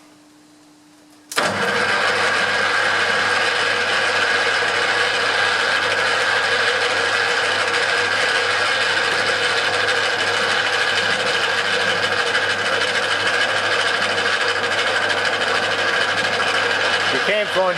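A tapping chuck with a slip clutch runs in a machine that starts abruptly after a short hum, then holds a loud, steady mechanical whir with a constant drone for the rest of the time.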